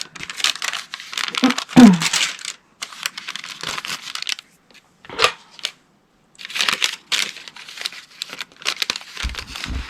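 Parchment paper crinkles and rustles in repeated bursts while being handled during fabric starching for quilting, with a few short pauses and brief talk in between.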